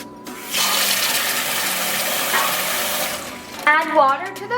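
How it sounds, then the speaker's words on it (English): Water runs steadily from a tap into a bowl of rice for a few seconds, a loud rushing splash, then stops as someone starts speaking. "And now we have to rinse the rice."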